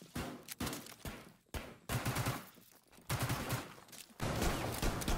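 Bursts of video game gunfire crack out in rapid automatic volleys, several separate strings of shots with short gaps between them, close and sharp.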